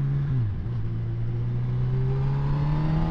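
A 2018 Honda CB1000R+ motorcycle with a quickshifter pulls away under acceleration, its engine tone dipping briefly at a shift and then rising smoothly and loudly, heard close with steady wind rush.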